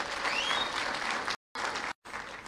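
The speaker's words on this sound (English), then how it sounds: "Another hearty clap for the CEO" An audience claps warmly for a CEO at a formal gathering, a thick, even wash of applause heard close, cut by two brief dropouts.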